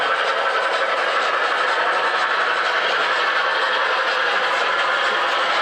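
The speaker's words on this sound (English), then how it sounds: "Union Pacific big boy here on the bottom. This is the 4014, the excursion version." A model Union Pacific Big Boy 4014 excursion locomotive runs on a layout, giving a steady, dense rolling rumble and hiss that stays loud and even throughout with no pauses or voices.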